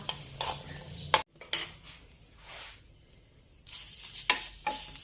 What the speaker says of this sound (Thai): ใส่น้ำลงไปแล้วเราก็คั่วนะคะ